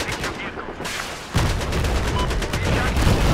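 Rapid bursts of gunfire and heavy explosive booms from Battlefield 4 Conquest on the Rogue Transmission map, loud and continuous, with a player speaking over the battle.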